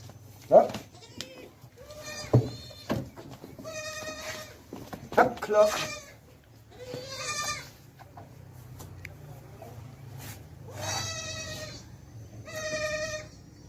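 Goats bleat repeatedly at a goat farm in Pakistan during milking, several loud, wavering calls spaced through the scene, with someone talking throughout and a low rumble underneath.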